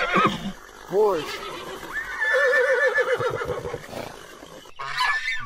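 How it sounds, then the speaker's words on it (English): A horse neighs and whinnies in several rising and falling calls, close and fairly loud, with a brief honk-like call near the end. "Horse. Horse."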